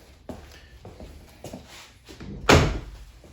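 A door with a newly installed knob set swings shut, with a few soft knocks and rattles before a firm, close latching thud near the end.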